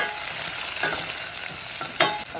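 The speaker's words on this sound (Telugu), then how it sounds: "కరివేపాకు వేస్తే" Curry leaves and onions sizzle and crackle in hot tempering oil for a lentil rasam, a close, lively frying hiss with a few sharper spits and stirring bursts, no voices over it.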